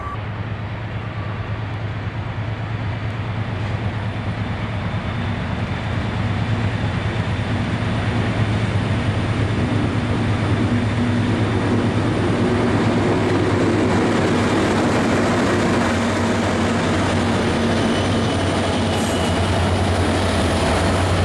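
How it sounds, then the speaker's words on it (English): A Norfolk Southern freight train with a locomotive lineup and 134 cars and buckets rolls around the S-curve of the Steamtown Y, a loud, steady rumble of engines and wheels holding throughout. "Train 37T comes up and around the S-curve of the Steamtown Y with a snazzy-looking locomotive lineup and 134 cars and buckets in tow"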